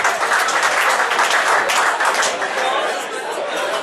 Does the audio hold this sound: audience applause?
yes